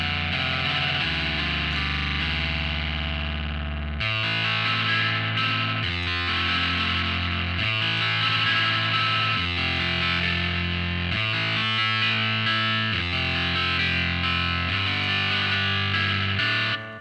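A guitar-like synth voice from a Logic Pro stock plug-in plays heavily distorted sustained chords and riffs with shifting bass notes, loud and continuous, with no voices.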